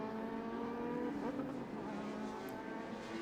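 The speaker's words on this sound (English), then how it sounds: "These are our PSSA cars." Prototype race cars of the PSSA series, including a Norma M20 FC, scream past at Sonoma Raceway on Hankook tires, a faint, sustained high engine whine with shifting tonal harmonics, heard from a distance without talk.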